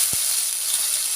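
Spiced masala fish fries in hot oil with a constant bright hiss and sizzle, close and even throughout, with a single soft thud near the start.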